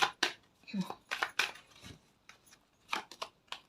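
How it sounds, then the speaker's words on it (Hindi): Tarot cards shuffled by hand, giving a string of brief, crisp riffling bursts and soft slaps close by, spaced irregularly with quiet gaps between them. "वापस से शफल करती हूँ।"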